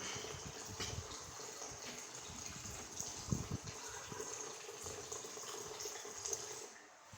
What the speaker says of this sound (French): on va activer la pompe